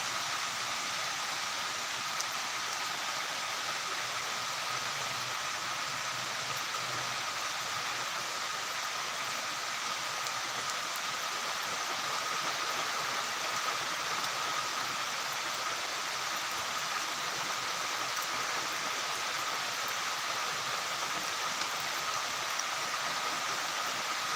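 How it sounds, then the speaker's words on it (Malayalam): Steady, dense hiss of heavy rain with strong wind pouring down without letup, even and unbroken throughout, with no voices. "നല്ല മഴ നല്ല മഴ നല്ല കാറ്റും"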